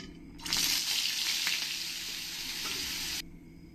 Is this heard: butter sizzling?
yes